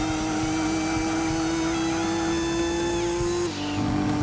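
Race car engine in a late-1990s driving game, a steady high-pitched synthesized whine holding at high revs, then dipping briefly at a gear shift before climbing again, loud and continuous.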